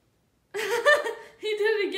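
A cat climbing the stairs lets out two drawn-out, rising and falling meows in close succession, loud and near, after a moment of silence.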